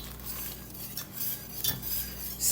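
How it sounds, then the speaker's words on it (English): A homemade laundry soap mixture is stirred in a pot on the stove until it melts. A utensil scrapes and clinks against the pot in soft, irregular strokes, with no voices. "So you're going to stir this and stir and stir until this is completely melted."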